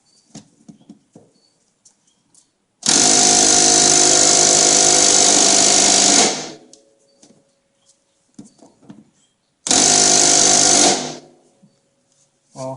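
A cordless impact wrench works at a front suspension bolt on an S13 240SX during a sway bar install. Two loud, close bursts of rapid hammering rattle are separated by quiet pauses with small handling clicks.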